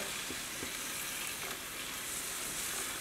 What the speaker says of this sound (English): we're going to let this saute before adding in the cabbage